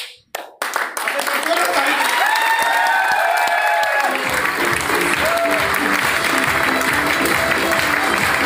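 Loud, sustained applause from a large audience fills a banquet hall at a training event, starting after a brief pause and continuing steadily as a dense, even wash of clapping with a few voices mixed in.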